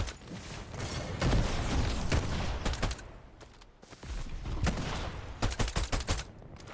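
Bursts of shotgun gunfire in a Fortnite Zero Build match, with sharp, loud blasts coming in clusters, a mid-clip lull of rumbling ambience, then a rapid string of close shots near the end.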